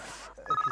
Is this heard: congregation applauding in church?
no